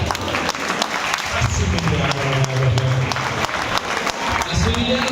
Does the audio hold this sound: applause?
yes